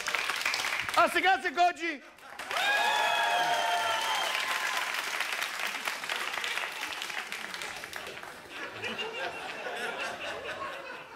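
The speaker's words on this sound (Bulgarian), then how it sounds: "Аплодисменти за господин Трифонов." Studio audience bursts into sustained applause for Mr. Trifonov on a Bulgarian TV talk show, close and loud after a short spoken line, with scattered laughter and chatter mixed in.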